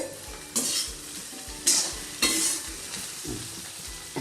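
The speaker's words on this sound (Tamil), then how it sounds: "நான் எல்லாம் வதக்கி வச்சாச்சு இன்னும் ரெண்டு நிமிஷத்தில் வதங்கிடும்" Vegetables sauté in a pan for a kadalai theeyal, a continuous sizzle punctuated by sharp spoon scrapes and clinks against the metal, recurring roughly once a second, with no talking.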